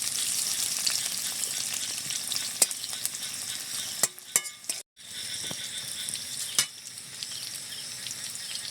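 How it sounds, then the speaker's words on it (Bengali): Small potatoes fry in hot oil with a steady broad sizzle, and a spatula scrapes and clinks against the pan now and then. The sizzle cuts out for a moment midway, then returns at the same level. "আলুটা একটু ভেজে নিচ্ছি হালকা, এভাবে তেলের সাথে নেড়ে চেড়ে একটু দেখুন,"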